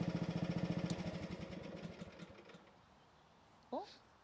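A mini excavator's small diesel engine pulses in a steady, rapid chug that slows and fades, followed by a brief chirp near the end; close and fairly quiet, with no talking.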